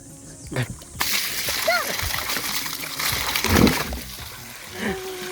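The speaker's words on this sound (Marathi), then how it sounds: "हाय हाय पाणी तर आहे, पण ते तुटलं" Water from a broken garden pipe splashing and sloshing at close range, in irregular bursts beneath people talking and calling out.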